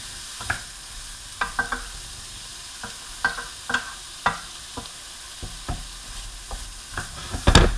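Vegetables sweating in a pot over low heat, a soft steady sizzle broken by repeated scraping stirs, close up with no talking.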